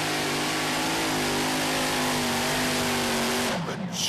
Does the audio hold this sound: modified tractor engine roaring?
yes